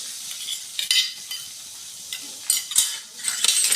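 Asafoetida and crushed pure garlic paste fry in hot oil for chole, a close sizzle broken by spoon stirring and clinks against the pan, with sharp metallic scrapes and bursts scattered throughout.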